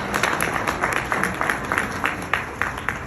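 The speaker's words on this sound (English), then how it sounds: "what about a round of applause for our chair here?" Audience applause for the chair at a Liberal Party evening event, a steady wash of many hands clapping at close to moderate distance, fairly loud and continuous for the whole stretch with no voices standing out.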